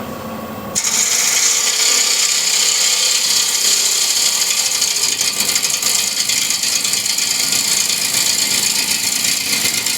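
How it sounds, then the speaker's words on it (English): A bowl gouge cuts cross-grain wood on a spinning lathe, giving a loud, continuous rasping scrape that starts abruptly after a moment of quieter hum and holds steady throughout. "So for the nice push cut, again I'll be using the nose of the gouge."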